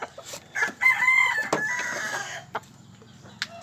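Pet chickens at morning feeding time, a rooster crowing clearly up close while hens cluck around it, with scattered clicks and rustles as the birds move.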